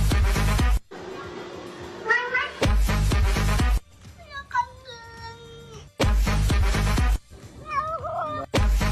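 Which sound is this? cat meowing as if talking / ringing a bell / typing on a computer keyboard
cat meowing as if talking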